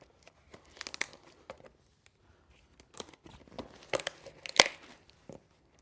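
A well-taped cardboard box nested inside a coffee roaster package is pried open, giving sharp bursts of tape tearing and crinkling cardboard close by, sparse at first, then a quick cluster of rips, with no talking.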